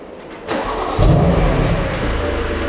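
A 2021 BMW M2 Competition coupe engine cranking and catching, rising to a loud, steady idle that settles into a continuous close rumble.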